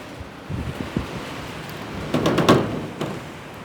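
Gusty wind blowing outdoors around a pigeon loft, a broad rushing roar with buffeting gusts against the microphone that swell and ease over a few seconds, with no talking.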